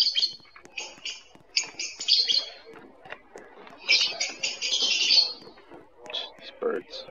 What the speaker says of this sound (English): These birds never shut up.